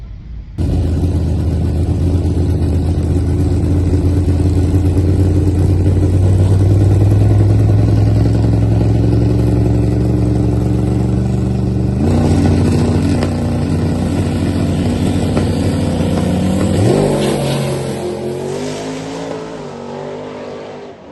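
A drag racing car's engine rumbles loud and steady during a 20-mile cruise near Natural Bridge, Virginia, holding a deep droning note that shifts pitch partway through and eases off near the end.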